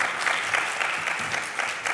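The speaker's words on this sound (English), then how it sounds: "A round of applause for Ali, please." An audience claps steadily for a presenter at the close of a talk on the emerging consumer class, a dense, even round of applause with no voices over it, lasting under two seconds.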